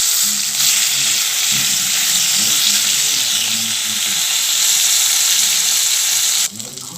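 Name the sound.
fish frying in oil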